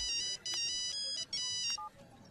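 An electronic phone ringtone plays in repeated bursts of bright, stacked tones with brief gaps, fairly loud and close, in a dramatic Hindi horror film scene.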